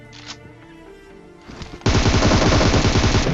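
Sustained automatic gunfire from a battle royale video game erupts suddenly after a quieter stretch of scattered sounds, then continues loud and rapid to the end without talk.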